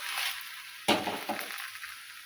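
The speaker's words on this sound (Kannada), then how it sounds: "ಈ ಥರ ಎಣ್ಣೆ ಹಚ್ಕೊಂಡು ಬೇಯಿಸೋದು ನೋಡಿರಿ" Ragi thalipeeth flatbread cooks in oil on a hot pan, a soft steady sizzle with a sudden louder burst of crackling partway through, close and fairly quiet.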